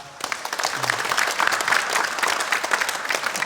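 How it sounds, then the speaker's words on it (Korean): A church congregation gives steady applause during a Sunday service, a continuous wash of many hands clapping at moderate level, with a faint low tone near the start. "다시 한번 하나님께 감사와 찬송과 영광의 박수 올리시겠습니다"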